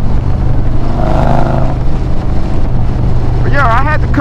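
Harley-Davidson motorcycle fitted with a Trask Power Plate, riding with a steady low engine drone under heavy wind rush, with a brief warbling tonal sound near the end.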